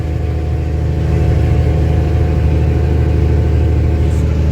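Loud, constant drone of an old dump truck's engine pulling up a long highway grade at about 50 mph, a steady low rumble that swells slightly and holds.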